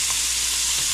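Bangus (milkfish) frying in a pan, a loud, steady, dense sizzle with no voices over it.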